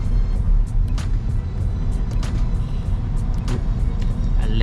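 A Tesla Model Y electric SUV moves off in Malaysian traffic, giving a steady low road and traffic rumble with a few faint clicks and higher swishes over the top.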